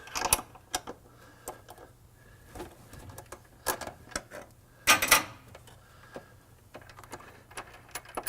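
A wrench backs off a threaded bushing bolt on a Mustang leaf spring frame mount, giving a series of irregular metallic ratcheting clicks and scrapes, close and fairly quiet, with brief pauses between turns.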